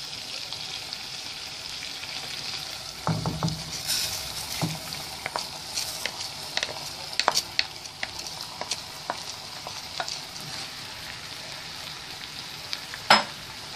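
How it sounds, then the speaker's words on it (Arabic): Chicken liver and gizzards sauté in a pan with a constant soft sizzle, punctuated by scattered spatula scrapes and stirring clinks, with a louder clatter near the end. "قلبت الكبد والقوانص كده، خدت بس تشويحه يعني معاهم"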